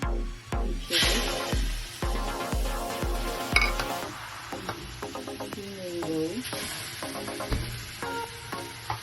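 Peaches and ripe mango sizzle in a pan on a stovetop over medium heat, a steady frying hiss with metallic clinks and stirring scrapes, plus some faint background tones.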